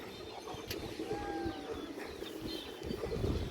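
Pigeons coo softly at a pigeon seller's stall where a big male bird and red old-breed pigeons are kept, a low murmur of calls over steady background noise with faint chirps.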